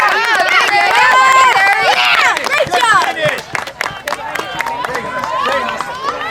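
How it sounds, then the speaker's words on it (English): Crowd of fans cheering and clapping for runners at a 2022 girls' cross-country invitational, a busy mix of shouts, whoops and scattered applause with people calling out encouragement nearby throughout. "You hear the fans still cheering everybody on."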